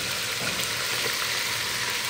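Food frying in a pan for a home-cooked dinner gives a steady, even sizzle that stays close and constant from start to finish, with no talking.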